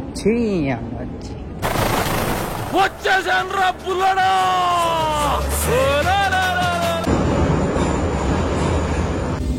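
A metro train in Georgia runs on its rails, with rising and falling wheel squeals over a heavy rumble that stays loud and close, then settles into a steady roar; voices are briefly heard at the start.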